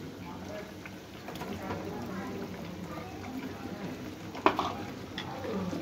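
Fish and fish roe go into a boiling kathla fish-belly curry, which bubbles and sizzles steadily in the pot with a brief clatter about two-thirds through, while a person talks over it.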